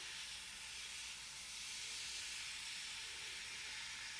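Airbrush spraying paint onto model scenery, giving a steady, continuous airy hiss that runs unbroken from start to finish at an even level.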